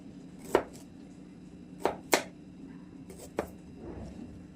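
A knife pokes holes into large potatoes, four or five sharp, close taps and stabs spaced irregularly over quiet background, with no talking.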